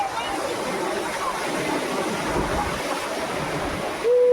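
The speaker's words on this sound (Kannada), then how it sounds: "ನೋಡಿ ಗಾಯ್ಸ್, ಅಲೆ ಬರ್ತೈತೆ" Ocean surf rolls and washes onto the beach at Murdeshwara, a steady broadband rush with wind across the microphone and no clear break between swells.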